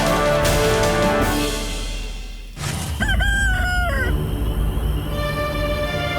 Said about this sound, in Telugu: కుక్కురుకో, కోడి కూత, ఇంత రాత్రి వేళ ఇదెక్కడి నుంచి వస్తోంది?